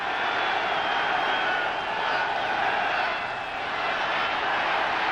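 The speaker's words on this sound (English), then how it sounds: "Crowd is loud." Loud, steady roar of a packed stadium crowd at an NFL playoff game in Chicago, Bears hosting the Giants, a dense wash of voices with no breaks across the stretch.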